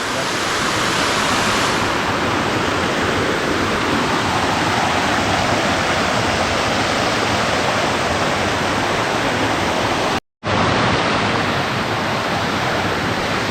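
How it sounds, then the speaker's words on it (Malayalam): Thusharagiri waterfall roars close by with a loud, unbroken rush of falling water. The sound holds steady throughout, apart from one momentary cutout near the end. "ഇതാണ് വെള്ളച്ചാട്ടോട്ടാ."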